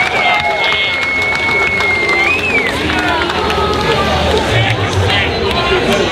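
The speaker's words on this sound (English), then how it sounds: "Let's get a round of applause for that volleyball action right there here on center court." Outdoor crowd at a summer volleyball tournament's center court cheering and clapping after a play, a loud continuous roar with whistles and shouts, while a voice talks over it.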